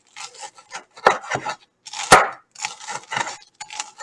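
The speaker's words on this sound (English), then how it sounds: "Just cut them about a 1/4 inch and always keep your eye on the knife, as with all knife activities." A kitchen knife slices through a loaf of organic rye bread into quarter-inch slices, giving a run of dry, scratchy sawing and rubbing strokes with brief pauses between cuts. One sharper crunch comes near the middle.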